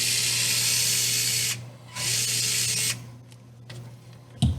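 A cordless drill backs out two screws from the bottom of the bumper on an INJORA IR60 RC pickup truck: two sustained whirring bursts, close and loud, followed by quieter clicking and handling noises.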